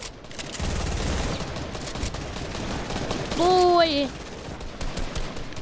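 A pump shotgun fires in a fast-paced shooter game amid a dense run of gunfire bursts, with a voice shouting over the action and a rising electronic sound effect sweeping through near the end.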